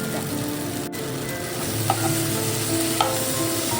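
Turmeric is stirred into sizzling eggplant over high heat, a constant close frying hiss with a few spoon scrapes and clicks, no voices.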